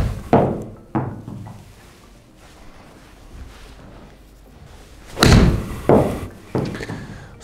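A golf pitching wedge from a forged blade iron set striking balls, giving several sharp, close impact thwacks spaced a few seconds apart, with a louder cluster of hits near the end over a quiet outdoor background.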